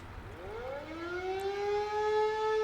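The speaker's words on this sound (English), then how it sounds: "This is an air raid horn." An air raid horn in the video game Age of Water swells up from low to a sustained, steady wail, loud and alone, holding its pitch to the end.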